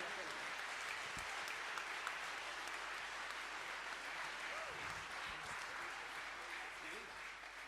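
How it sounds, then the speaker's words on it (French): An audience at a town New Year's greetings evening applauds children from a music school and their teacher, with steady, even clapping that holds at a moderate level throughout, with faint murmurs beneath. "Je crois qu'on peut les applaudir, ainsi que leur professeure, Madame Morera."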